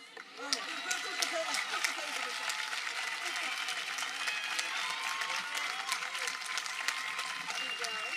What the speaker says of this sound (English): How about another round of applause for Enrique's message?